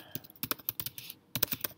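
Keys clatter on a computer keyboard in quick irregular bursts, crisp and close, with a short pause before a final cluster of presses while text is entered in drafting software.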